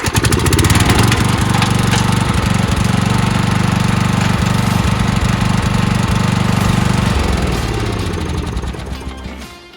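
A tractor lawn mower engine cranks and fires up, then runs loud and steady close by with a rough rumbling chug before winding down at the end.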